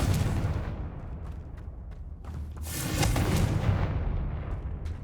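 A blasting spell detonates in the Hogwarts Legacy video game, a loud booming explosion with a rumbling tail, followed by a second swelling blast midway and continued crackling roar.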